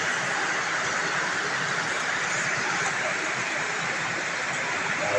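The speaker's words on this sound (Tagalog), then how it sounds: "Lagyan natin ng tubig." Water is poured into a cooking pot in a home kitchen, a steady broadband rushing splash that stays even and moderately loud for several seconds without pause.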